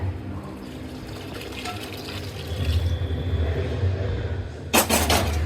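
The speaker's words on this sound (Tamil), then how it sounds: "அவிச்ச தண்ணி எடுத்து அதுலயே ஊத்திடுங்க." Boiled water pours into a pan of gravy with a steady splashing gurgle, followed near the end by a brief sharp clatter.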